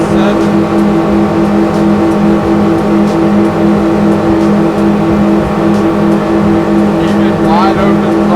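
A 2025 Robalo 257 boat runs at wide open throttle at around 50 mph, its engine a loud, steady, unbroken roar with a strong droning hum and wind rush throughout. A voice may be faintly mixed in under the engine.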